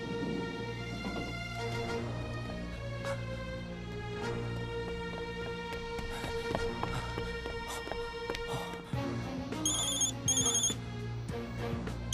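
A telephone rings on and on with an unanswered call, its steady ringtone pattern repeating throughout with a brighter burst of tones near the end.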